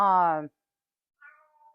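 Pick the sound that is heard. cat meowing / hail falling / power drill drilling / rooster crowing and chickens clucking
cat meowing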